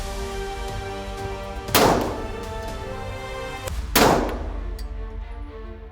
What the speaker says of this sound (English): When you were shooting, coming up, you pulled to the right.